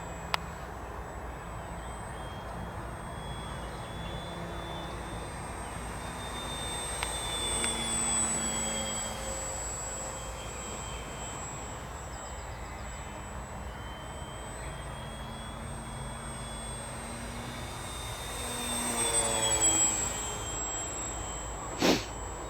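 XFly-Models 1.2 m Glastar RC model plane in flight: a steady high electric whine holds throughout over outdoor wind noise, swelling louder twice as the plane passes closer.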